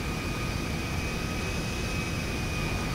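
Steady, loud engine roar of a Russian airplane in GTA 5 Online, a continuous dense drone with a thin steady whine on top, no break or change across the few seconds.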